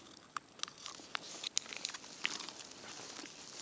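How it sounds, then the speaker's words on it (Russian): Rain begins to patter in a damp spruce forest during autumn game-bird hunting, with scattered light drops ticking and tapping on needles and leaves, quiet and irregular with no talking. "Опять дождь начинается."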